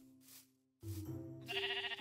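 A horse in the Minecraft X Life modpack calls out in two tonal bursts, a short faint one followed by a louder, longer, wavering cry, with no speech over it.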